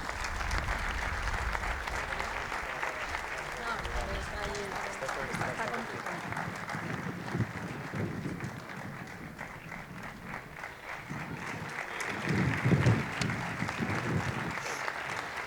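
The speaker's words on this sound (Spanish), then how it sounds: "Demanem un fort aplaudiment per a Maria Victòria Licera." Sustained applause from an audience at a festival presentation event in Biar, Spain, steady and fairly dense, continuing throughout with a slight swell near the end.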